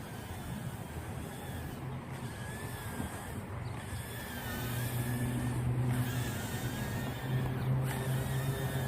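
Small whoop drone flying outdoors in wind at full throttle: faint high-pitched motor whine that rises and falls in repeated swells over a steady windy background.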